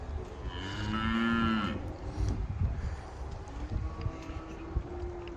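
Cows and calves on a farm in Belgium, one close, loud, drawn-out moo followed by lowing, shuffling and general barn noise.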